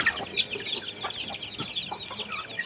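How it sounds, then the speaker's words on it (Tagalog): Chickens on a farm cluck and chatter in short overlapping bursts, fairly close, with a steady busy flock murmur throughout and no talking. "sasalubong yan sa'yo ang mga manok"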